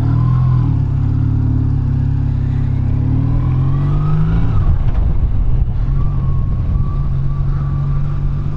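A 2003 BMW R1150 GS motorcycle engine runs steadily close by, a deep low rumble with a brief rise and dip around the middle before settling back to a constant idle-like drone, no voices.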